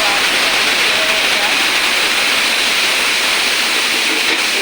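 Water poured into a pan of frying potato and vegetables with turmeric and salt, producing a loud, steady hiss and rush of steam that fills the whole stretch without a break.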